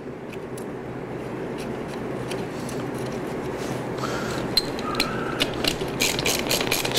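A ratchet tightens the wheel lug nuts on a Stella scooter, clicking quickly and steadily at close range, with the clicks turning sharper and more spaced toward the end.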